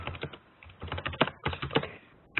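Computer keyboard typing while editing a ticket in business software, a quick run of clustered key clicks with short pauses, close and fairly loud, with no talk over it.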